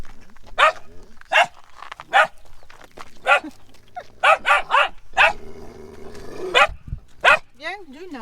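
Dogs on a farm in Morocco bark repeatedly in sharp, loud bursts, some in quick clusters, with a few growls and yips between them, while people talk nearby.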